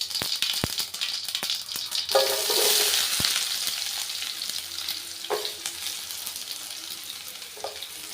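Mustard seeds and cumin frying in a little oil, a close crackling sizzle broken by sharp popping clicks and occasional spatula scrapes, with a brief louder swell of hiss partway through and no talking.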